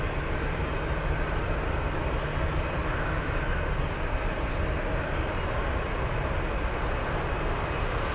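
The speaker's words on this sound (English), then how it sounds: "Takeoffs are sounding 10 out of 10." A cargo jet takes off at Anchorage airport with a loud, steady engine roar and deep rumble that holds without a break.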